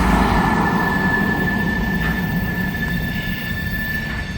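A freight train rolls southbound past a trackside spot in Deshler on the Toledo Sub, a loud, continuous rumble of railcars and wheels with a thin, steady wheel squeal above it.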